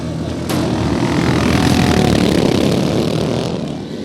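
A pack of 350cc dirt track motorcycles launches at the start of a novice finals race, a sudden surge of loud, dense engine roar that swells and holds, then eases slightly as the bikes pull away.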